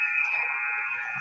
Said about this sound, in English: we can hear the period-ending buzzer from behind us